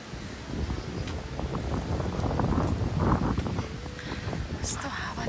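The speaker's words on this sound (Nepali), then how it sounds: "यस्तो हावा चलेछ कि" Strong wind buffeting the microphone on a steep mountain trail on the Gosaikunda trek in the Nepal Himalaya, a broad roaring gust that swells and eases, with muffled voices talking beneath it.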